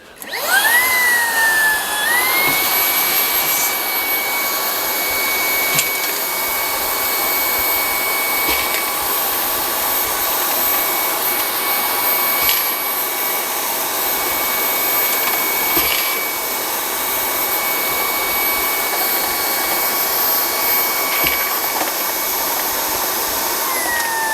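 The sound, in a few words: Brigii H5 handheld vacuum cleaner running, sucking up screws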